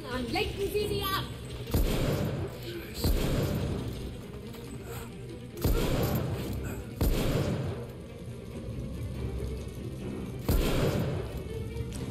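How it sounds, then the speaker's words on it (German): Gunshots ring out in the PlayStation 5 shooter The Order: 1886, a handful of heavy booming blasts spaced a second or two apart over a continuous bed of game noise, with German voices talking throughout. "Jeder Schuss ein Treffer."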